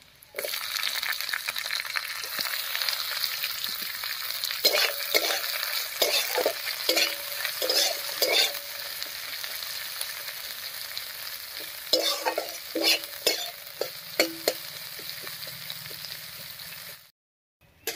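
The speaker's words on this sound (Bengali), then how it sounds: "সমস্ত কিছু খুব ভালো করে ভাজা হয়ে গেছে" Continuous sizzling of onions and spices frying in a pan, with repeated scraping and stirring clatters throughout, close and steady, ending abruptly.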